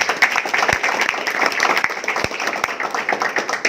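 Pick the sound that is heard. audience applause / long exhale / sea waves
audience applause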